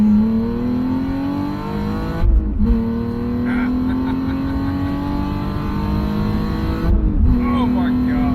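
Twin-screw supercharged BMW E46 330i pulling hard on an open highway, the engine note rising steadily through gears with brief dips at two shifts, heard from inside the car, loud and continuous.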